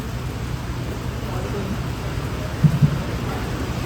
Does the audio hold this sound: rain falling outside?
yes